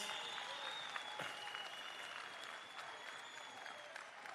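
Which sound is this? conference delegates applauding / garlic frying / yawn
conference delegates applauding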